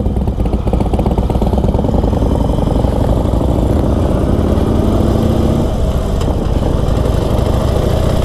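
A 2020 Harley-Davidson Sportster Forty Eight engine running with a loud, steady, rumbling throb that stays even throughout, close up with no talk.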